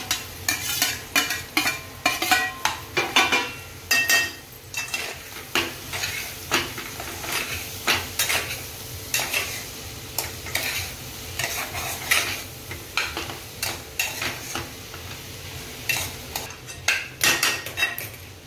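Potato bhaji filling for masala dosa is stirred in a pan, a rhythmic run of metal spoon scrapes and knocks against the pan over a low sizzle, close and repeated throughout with no talking.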